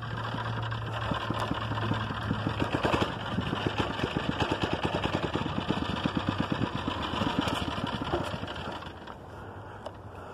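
A 79cc Predator small engine on a friction-drive motorized bicycle, a steady, fast putter with distinct rhythmic pulses that holds close and loud and then eases off toward the end.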